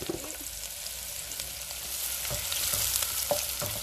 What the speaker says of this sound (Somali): basasha xoogaa yar ku shiil.